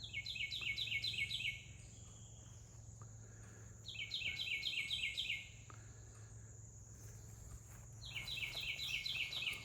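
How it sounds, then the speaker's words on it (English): A bird sings outdoors in a flower garden, giving three bursts of rapid high trilling notes at regular intervals, moderately near, over a faint background hum and insect buzz. "hear a bird out there"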